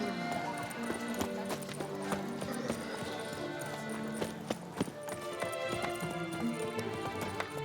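Horse hooves clip-clop at a steady walking rhythm in The Witcher 3 video game, repeated taps over a layer of game ambience and background music.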